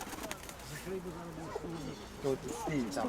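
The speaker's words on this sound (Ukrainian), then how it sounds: "А ну цю голуба піймайте, ось цього." A pigeon coos several times at close range while people talk nearby.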